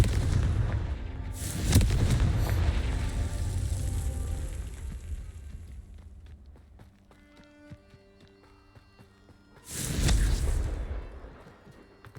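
In a Hogwarts video game, two loud booming Confringo spell explosions go off several seconds apart, each with a rumbling tail, while quieter game effects and music tones fill the gap between them.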